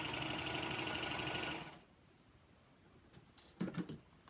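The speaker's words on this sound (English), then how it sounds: "I'm doing a 1/4 inch seam here." A Singer Featherweight sewing machine runs steadily for about a second and a half while stitching a quarter-inch seam, then stops, followed by a few faint clicks and a soft rustle.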